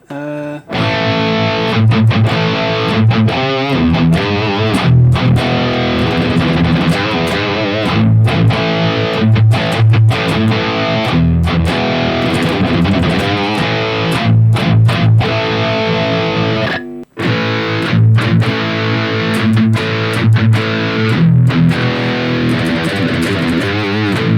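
Heavily distorted electric guitar through a DK 9004 amp model patch plays continuous riffs with sharp palm-muted chugs and brief gaps, loud and close for the whole stretch.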